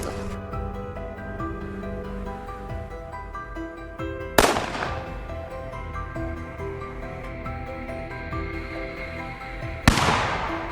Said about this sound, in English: the familiar crack of his rifle rang out